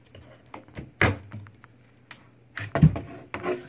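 A wooden door panel with sanded beveled edges slides in and out of a frame built from 2x4 lumber, making scattered knocks, scrapes and clunks at close range, busiest near the end, with no talking.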